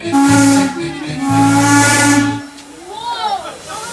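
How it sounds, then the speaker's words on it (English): Steam whistle on Strasburg Rail Road locomotive 475, a 1906 Baldwin engine, sounds two loud, close blasts, the first short and the second longer, with hissing steam around them and a softer rising and falling whistle tone at the end. "Those whistle blasts would mean it was soon time to go"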